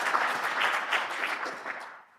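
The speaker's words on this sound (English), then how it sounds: "we need to applaud Alex, our technician in the back" Audience applause for the technician at the end of a lecture, a steady patter of many hands clapping at moderate volume that tapers off toward the end.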